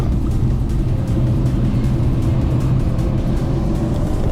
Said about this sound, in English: Coming up the straight here, you hear a little slight understeer, fully floored.